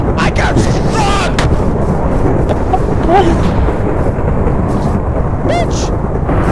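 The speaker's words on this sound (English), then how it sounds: "Oh, there's another lightning!" Rain and thunder during a Minecraft storm, a constant loud downpour wash with heavy rumbling cracks and a few short, sharp game sounds on top.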